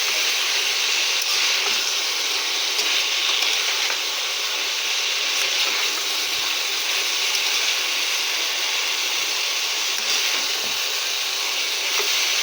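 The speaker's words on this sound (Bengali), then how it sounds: "কেটে রাখা টমেটো আর কাঁচা লঙ্কা দিয়ে নেব। দিয়ে এটাকে ভালোভাবে কষিয়ে নেব এর সঙ্গে।" Chopped tomatoes and green chillies sauté in a hot pan while dried yardlong beans are cooked into a spicy dish: a steady, loud, unbroken sizzle and hiss that holds evenly throughout with no talking.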